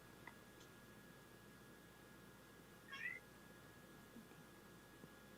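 A cat yells once, a short faint meow partway through, set against a quiet room hum and a steady tone.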